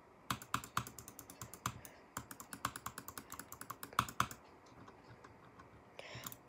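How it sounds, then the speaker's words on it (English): A Glorious Model O computer mouse gives a fast series of sharp, close clicks in irregular bursts, then a short pause and a few softer clicks, heard alone in a quiet room. "this is the Glorious Model O clicks"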